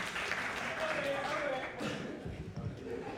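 An audience at a talent show applauds, a dense continuous wash of clapping with voices mixed in beneath it.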